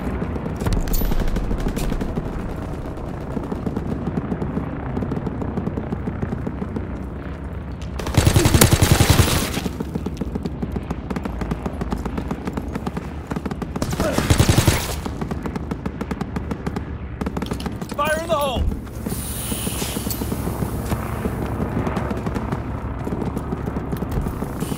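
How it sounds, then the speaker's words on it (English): Aircraft gunner machine-gun fire in Call of Duty: WWII, heard as two loud bursts of rapid gunfire over continuous battlefield noise, with scattered distant shots and hoofbeat-like clatter in between. "Aircraft gunner inbound!"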